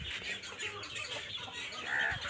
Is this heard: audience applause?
no